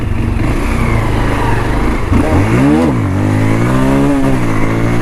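A Bajaj Pulsar 220F motorcycle engine roars loudly and continuously during a ride, its revs climbing and falling in repeated surges as the throttle is worked, heard close with steady wind and road noise.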